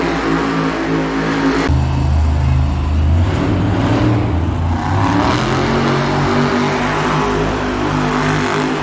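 Monster truck engine revving loudly in an indoor arena at a Monster Jam show, a continuous heavy roar with rising and falling throttle that fills the whole stretch, with no talk over it.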